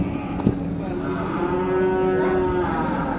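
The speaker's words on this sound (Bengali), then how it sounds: "অনেক অনেক গরু উঠেছে" Cattle low with long, steady moos at a weekly Bangladeshi cattle market. A single drawn-out call holds for over a second, with fainter lowing and market bustle continuing beneath it.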